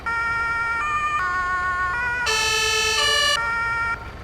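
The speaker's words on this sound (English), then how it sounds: "It also has a siren." Electronic siren of an emergency vehicle in Farming Simulator 22 wailing in stepped tones, switching between pitches several times, loud and synthetic with clean harmonic layers.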